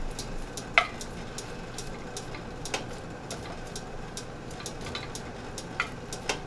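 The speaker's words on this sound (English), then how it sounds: "Bacon's cooking." Bacon added to a cold pan and slowly heating, a faint steady sizzle with scattered small pops and ticks, close by and without talk.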